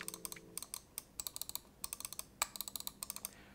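Button clicks from a Fantech Aria XD7 gaming mouse with KLGM 8.0 switches, a quick run of crisp, close clicks in irregular bursts, heard alone with no talking.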